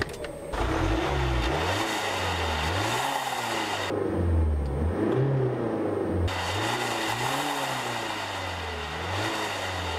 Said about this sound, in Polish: po ruszeniu z miejsca od razu czuć, że to jest bardzo dobrze jeżdżący samochód